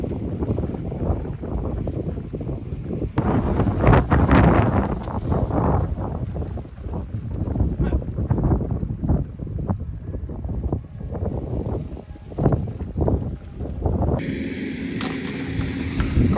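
Gusty wind buffets the microphone on an outdoor disc golf course, a loud, continuous low rumble rising and falling in strength throughout, with a brief higher rustle near the end.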